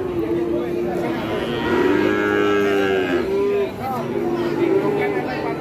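Brangus and Limousin cattle at an Indonesian livestock market give several long, loud moos, one after another, over the constant hubbub of a crowd and nearby chatter.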